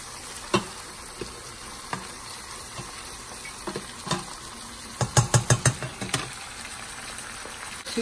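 Onion and garlic sizzle in a pan under a constant soft hiss, broken by sparse spatula knocks and then a quick burst of about five stirring scrapes near the end.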